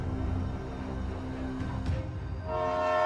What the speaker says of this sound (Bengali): তখনই ট্রেনটা আবার আরেকটা স্টেশনে এসে দাঁড়িয়ে যায়।